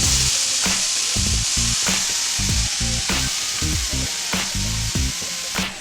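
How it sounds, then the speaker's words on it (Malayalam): Grated carrot fries in ghee left over from roasting raisins, a loud continuous sizzle broken by rhythmic scraping and stirring strokes from a spoon in the pan. "മുന്തിരിങ്ങ വറുത്തെടുത്ത നെയ്യിലേക്ക് ഞാൻ ഗ്രേറ്റ് ചെയ്ത ക്യാരറ്റ് ഞാൻ കുറച്ചിട്ട് കൊടുക്കുന്നുണ്ട്"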